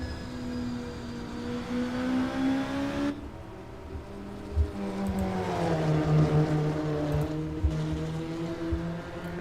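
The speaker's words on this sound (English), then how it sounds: "Just following this GT4 car here" A GT4 race car's engine drones steadily at close range, its pitch sliding down as it goes by, then a second rising-and-falling engine note follows, loud and continuous with no talk.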